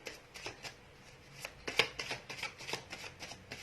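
Tarot cards are shuffled close up, with quiet riffling flutters and soft taps repeating in quick irregular bursts, alone and faint.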